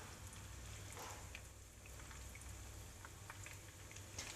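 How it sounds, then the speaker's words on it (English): Breaded salmon fingers fry lightly in a pan, giving a faint, steady sizzle and soft crackle that runs throughout with no talking. "And then just put in your salmon fingers gently. And lightly fry one side."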